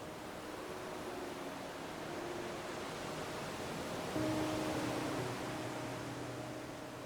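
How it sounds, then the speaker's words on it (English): Steady broadband wash of sea waves and surf, soft and continuous, with a faint tonal hum underneath and no speech. "There is something incredibly soothing in the sound of the sea."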